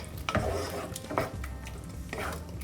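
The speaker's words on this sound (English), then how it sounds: "Put the gas off and stir that butter in" Gooseberry and lime preserve stirred with a knob of butter in a pan, soft scraping strokes repeating about three times over a faint sizzle, quiet and close.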